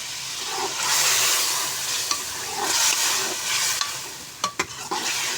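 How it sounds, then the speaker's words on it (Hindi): Marinated chicken is stirred in hot ghee in a pot, a steady loud sizzle with scraping spoon strokes and a few sharp clinks of utensil against metal near the end. "आप लोग देखिए, इसके अंदर घी डालकर इसको बस अच्छे तरीके से मिक्स करेंगे।"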